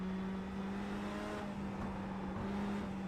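Race cars running slowly under caution behind the pace car at Concord Speedway in iRacing, a steady droning engine hum with a constant low tone and slight pitch shifts, moderately close and without talk.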